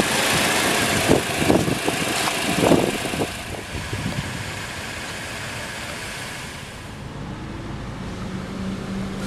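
A 2014 Toyota Corolla S with a 1.8-liter four-cylinder engine idling: a steady, moderately loud engine drone, with a few louder irregular thumps early on before it settles into an even hum.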